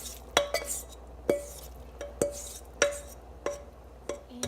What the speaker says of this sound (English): So now we're gonna add our vegetables into our mixture.